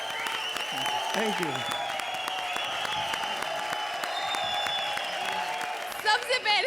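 A studio audience at a televised comedy show applauds loudly, sustained clapping from a crowd beneath a voice and background music, with a brief spoken thanks near the end.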